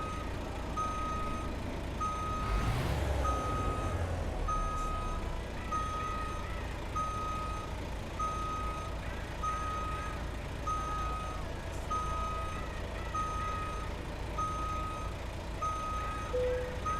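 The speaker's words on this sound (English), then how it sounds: "activate the reverse beeper" Reverse beeper on a heavy truck in American Truck Simulator, a steady evenly spaced series of beeps over a low idling engine, with a brief air brake hiss early on.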